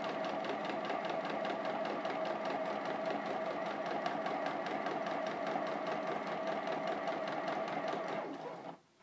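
A sewing machine pieces a quilt block seam with a fast, steady stitching rattle held evenly for about eight seconds, then stops.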